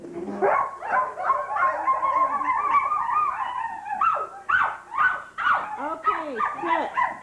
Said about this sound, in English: Let's hear the dogs speak.